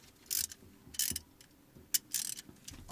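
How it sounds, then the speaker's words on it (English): Socket wrench ratcheting as it loosens frame bolts on a 2007 Chevy Suburban, sounding as several close, brisk bursts of rapid metallic clicking separated by short pauses. "I'm gonna loosen these two bolts."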